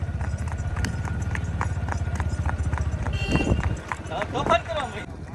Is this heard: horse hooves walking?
yes